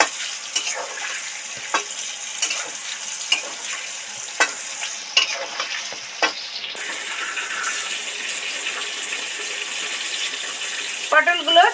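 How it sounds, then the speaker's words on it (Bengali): Pointed gourd frying in oil and being stirred, a dense close sizzle with repeated sharp scraping and tapping strokes of a spatula, ending in a short clatter. "দু চার মিনিট নেড়ে চেড়ে ভালো করে ঢাকা দিয়ে রেখে দিয়েছি মাঝে মাঝে ঢাকা খুলছি আর নেড়ে দিচ্ছি"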